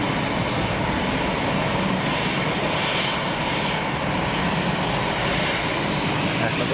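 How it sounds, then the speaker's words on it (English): An EasyJet Boeing 737 climbing out after takeoff from Geneva Airport roars as a dense, broad, continuous jet rumble, loud and steady throughout with no break. "Effortless climb out from EasyJet."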